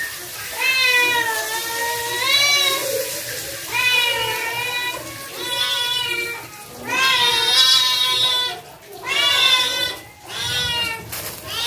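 A cat meows repeatedly in a series of drawn-out, rising and falling cries while being fed fried anchovies, loud and close, with short pauses between calls.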